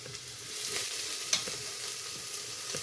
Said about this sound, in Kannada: ಈಗ ಮೆಂತ್ಯ ಸೊಪ್ಪು ಹಾಕೋಣ.